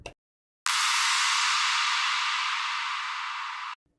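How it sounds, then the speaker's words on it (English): Within a melodic dubstep drum section, a clap down sweep appears as a bright, hissy burst of filtered noise that holds steady for about three seconds before stopping sharply, heard alone. "a clap down sweep"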